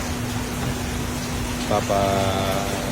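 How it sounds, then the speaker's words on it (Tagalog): Steady rain hisses around a Ford Fiesta EcoBoost during an outdoor car detailing job, backed by a constant low hum, with a voice joining near the end. "Ito kahit umuulan"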